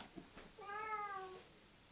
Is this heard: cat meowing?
yes